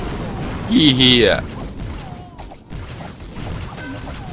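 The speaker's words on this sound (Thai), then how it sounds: "เจอระเบิดอย่างนี้ก็ยอมแพ้นะฮะ" Bombs and crashing impacts burst in the mobile strategy game Clash of Clans during a lost attack, a cluster of loud bangs with game effects, and someone speaks briefly over them.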